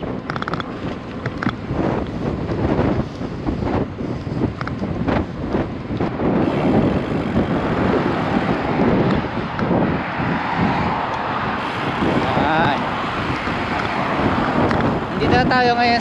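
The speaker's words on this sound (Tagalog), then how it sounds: "Grabe, lakas ng hangin." Strong wind buffets the microphone steadily during a gravel bike ride toward central Hamamatsu, a loud continuous roar with gusts and rushing noise throughout, with a voice talking briefly.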